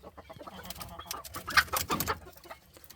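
Pet jungle fowl (labuyo) hens cluck in short, irregular bursts close by, with scattered bird calls around them and no speech.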